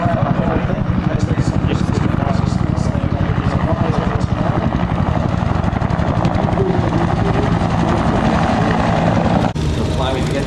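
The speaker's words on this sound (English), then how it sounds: "The Hueys, of course, the very aircraft that Ted himself flew, the gunships" Huey gunship helicopters passing low at an air show, a loud, constant rotor and engine roar that fills the whole span, with a commentator talking over it.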